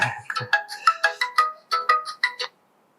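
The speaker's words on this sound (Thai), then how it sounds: "ขอโทษนะครับ เดี๋ยวโทรศัพท์เข้าสักครู่นะ" A mobile phone rings with an incoming call, playing a bright, rhythmic melodic ringtone of about a dozen quick notes that stops abruptly, leaving silence.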